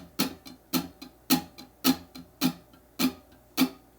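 Muted-string strumming on a jazz guitar, seven crisp percussive chucks in a steady even rhythm, close and moderately loud with no voices.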